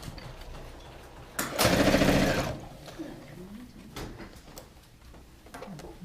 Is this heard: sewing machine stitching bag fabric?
yes